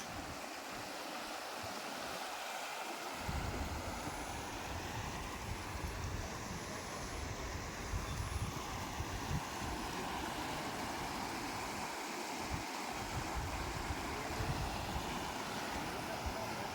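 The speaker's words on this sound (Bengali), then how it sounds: "আর এই জলের কলরব" Steady rushing of a mountain river flowing over stones, a continuous broadband wash that never lets up, fairly close with no talking.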